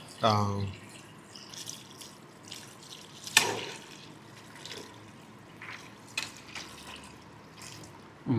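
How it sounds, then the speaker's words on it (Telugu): Water pours and splashes into a pot of mutton pieces nearby, with a louder gush near the start and a few clinks, then quieter trickling. "వాటర్ పోసి ఖాళీ ఎంటీకి వాటర్ పోసి ఉడకబెట్టాలి."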